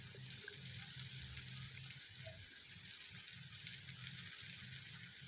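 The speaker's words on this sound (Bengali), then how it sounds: "ফ্রাই প্যানে তেল গরম করে এর মধ্যে পেঁয়াজ কুচি দিয়ে দিব" Chopped onions fry in hot oil in a frying pan, giving a steady, continuous crackling sizzle throughout, close and even in level with no voices.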